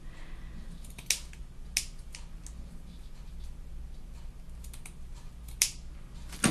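Scissors cut pieces of paper for a mixed media scrapbook layout, giving a few sharp, separate snips spaced out over a low, steady room hum.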